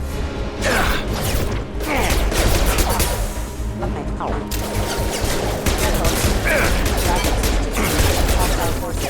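Gunfire rattles without a break against security mechs in the video game Mass Effect 2, loud and dense for nine seconds, with repeated volleys and impacts layered over battle noise.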